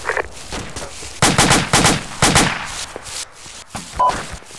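Bursts of automatic gunfire ring out in a tactical military shooter game, several rapid volleys of sharp cracks separated by short pauses, with a few scattered single shots afterward, loud and close.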